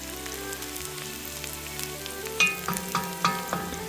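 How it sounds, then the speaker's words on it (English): Chopped onions sizzle and fry in hot olive oil in a pan for Greek chicken lemon rice soup, a steady crackle with a few louder stirring clinks and scrapes near the end. "And now you just want to saute your onions."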